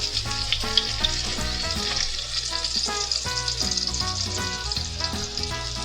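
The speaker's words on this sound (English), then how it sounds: "Burgers are coming. They're coming off" Burgers fry in a video game cook-off, giving a steady close sizzle with crackling pops and light scraping throughout, with no talk.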